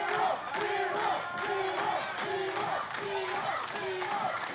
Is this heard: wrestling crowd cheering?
yes